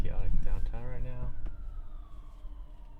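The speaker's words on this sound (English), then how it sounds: "there's a siren going off" An emergency vehicle siren wails on a downtown street with a long falling tone, mixed with traffic rumble and nearby voices talking over it.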